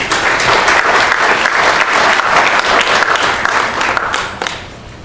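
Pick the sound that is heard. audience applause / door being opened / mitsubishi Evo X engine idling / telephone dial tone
audience applause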